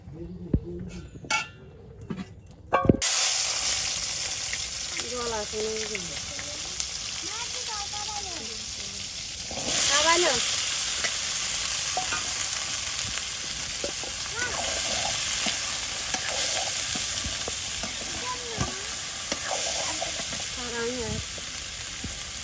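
Vegetables such as okra and long beans frying in hot oil in a village kitchen in Hatiya, a steady broadband sizzle with occasional clinks, while people talk over it throughout.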